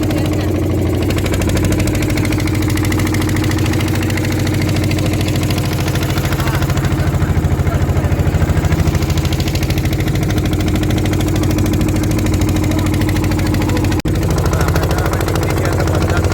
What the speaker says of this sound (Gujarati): જોયેલા બોટ ચાલુ થઈ ગઈ છે.